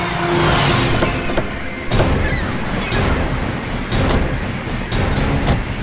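Car engine running loud and close with mechanical rattles and a few sharp knocks, a steady rumbling drone as the vehicle slows to a stop.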